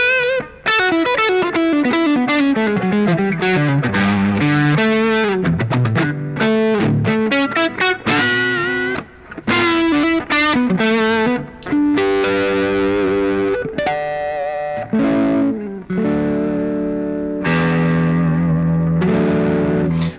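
An electric guitar wanders through loose, improvised phrases drenched in effects, with sustained distorted notes, swells and echoing tails, loud and continuous throughout.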